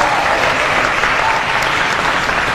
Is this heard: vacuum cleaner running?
no